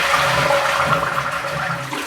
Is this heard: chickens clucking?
no